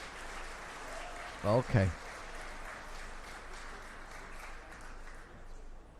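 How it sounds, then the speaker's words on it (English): Faint, steady audience applause runs through the hall at a video game awards ceremony, with someone briefly speaking over it. "Round of applause to Sandfall Interactive for taking home our first trophy"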